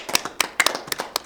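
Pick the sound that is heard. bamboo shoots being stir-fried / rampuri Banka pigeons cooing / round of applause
round of applause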